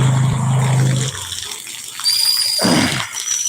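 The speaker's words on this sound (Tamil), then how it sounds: "வெள்ளையாக போகக்கூடிய தண்ணி எவ்வளோ மஞ்சளாக போகுதுன்னு பாருங்கள்" Muddy yellow rainwater rushes fast through a roadside channel after heavy rain, a steady broadband wash that thins out midway and surges back briefly near the end.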